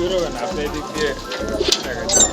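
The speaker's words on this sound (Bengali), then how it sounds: "অনেক কবুতর আছে, খয়রা গলা আছে, সাপচিলা আছে, খাকি কবুতর আছে" Many pigeons of several varieties, including brown-necked and khaki birds, cooing in a loft; low rhythmic coos pulse repeatedly in short bursts, close and steady, with a voice talking over them.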